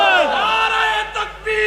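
A crowd at a Pakistani religious gathering roars the Takbir slogan in unison, a loud sustained massed shout of many voices that dips briefly and swells again.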